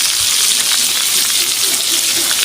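Pointed gourd (potol) frying in oil, a loud, dense, continuous sizzle without pauses.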